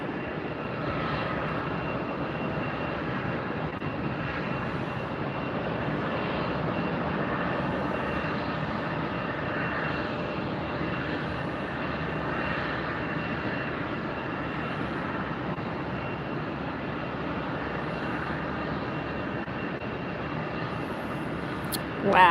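A Spirit Airlines airliner arriving from O'Hare lands at Tampa airport, its engines a steady broad roar heard from a distance that holds for over twenty seconds, with a brief sharp bump at the very end.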